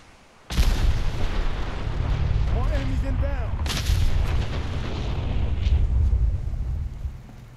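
Heavy weapon fire in Fallout 4 starts with a sudden loud blast, then rolls on as a sustained booming roar. A second burst cracks in partway through, and a brief warbling tone rises above the rumble.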